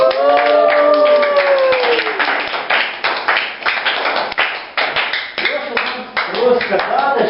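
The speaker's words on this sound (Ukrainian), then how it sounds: "Прошу зустрічати бурним оплесками." A group at a community camp claps in a rapid, uneven burst, with a voice talking over it at first and some taps as the clapping thins out.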